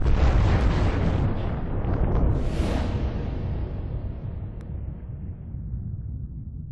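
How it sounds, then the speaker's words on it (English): A deep, rumbling supernova explosion bursts out with a rising whoosh, then slowly fades into a long, low decaying roar. "It crashes inwards and explodes."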